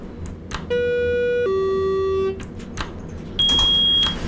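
An elevator alarm in an elevator testing video game sounds as a steady electronic tone that drops to a lower pitch and holds, then a brief higher-pitched beep follows after a pause, loud and close.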